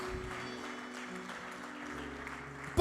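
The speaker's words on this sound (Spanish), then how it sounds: "Dale un aplauso al Señor." A faint, distant wash of applause rises from a church congregation at the close of a Spanish-language sermon, with a low musical hum running underneath.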